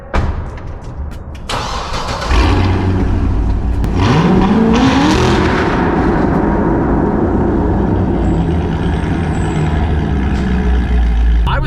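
A Corvette ZR1 fires up and pulls hard, its engine note climbing from a rumble into a loud, rising roar that keeps droning at high revs.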